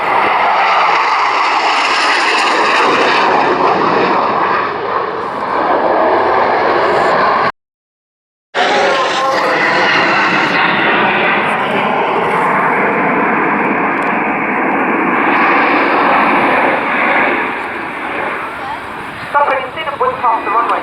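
Loud, sustained roar of a jet aircraft at the RNZAF Air Tattoo air show, capable of climbing from ground level to 18,000 feet and reaching Mach 1.8, rumbling continuously close by with a brief cut partway through, voices talking over it.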